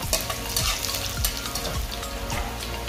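Garlic sizzles in butter and oil in a pan, a close, steady frying crackle with periodic scraping stirs.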